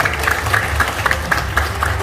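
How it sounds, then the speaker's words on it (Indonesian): An audience at a seminar applauds, with loud clapping in a fairly regular rhythm of distinct claps and a low rumble of crowd underneath. "terima kasih tepuk tangan yang sangat meriah untuk Bapak Didit Eko Ardianto"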